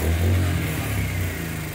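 Old quad ATV engine after a carb clean, revving under throttle with a steady, loud mid-pitched drone and slight clatter, close by, holding fairly even with no bog across the short burst.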